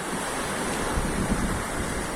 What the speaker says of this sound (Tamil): கடுமையான காற்றும் மழையும் இருக்கிறதுனால